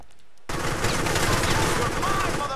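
Rapid automatic gunfire from Grand Theft Auto 4 with a realism mod bursts in after a brief quiet start, loud and sustained with dense overlapping shots under faint voices.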